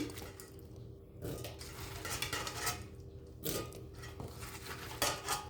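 Washed purple yam pieces drop into a cooking pot, giving quiet clattering knocks and scrapes of pot and utensils at intervals, faint and close, with no talking.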